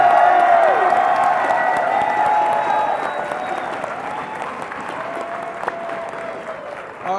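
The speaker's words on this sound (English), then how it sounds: "how about this crowd right here? You guys, I've never seen anything this hyped." A large esports tournament crowd at IPL4 in Las Vegas applauds and cheers loudly and steadily, with whoops rising above the clapping. The roar starts strong and eases slightly toward the end without stopping.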